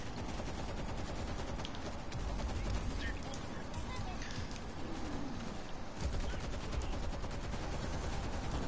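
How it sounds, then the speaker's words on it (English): Sustained automatic gunfire in the zombie shooter World War Z, a steady stream of shots mixed with chaotic game noise throughout, with voices partly underneath. "I put a whole mag into that dude"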